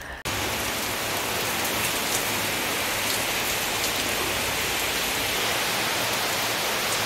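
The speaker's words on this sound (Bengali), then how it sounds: "ফাটাফাটি বৃষ্টি হচ্ছে বাইরে," Heavy rain pours steadily outdoors at night in Lava, a dense, continuous roar of drops with no pauses, loud and close throughout after a brief quieter start, with no voices.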